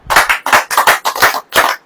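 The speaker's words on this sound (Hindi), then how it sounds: "अब ताली बजाइए" A church congregation claps hands together in a loud, close, rhythmic pattern of about seven quick bursts in under two seconds, with no talking.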